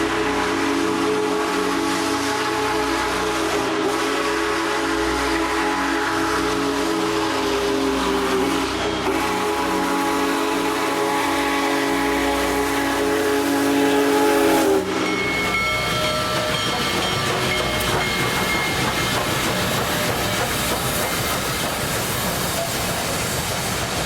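Union Pacific Big Boy 4014 steam locomotive running through Ellsworth, Kansas, a steady heavy rumble with a long sustained steam whistle blast, then the clatter of passing cars taking over for the last stretch, loud and close throughout.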